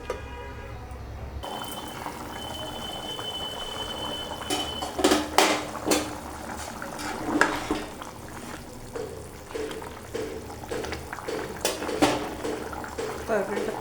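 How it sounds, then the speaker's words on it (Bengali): A metal lid goes onto a pot of simmering soybean and potato curry, with a few clattering clinks and knocks over a low kitchen background. "আমি এখন এটাকে ঢেকে দেবো"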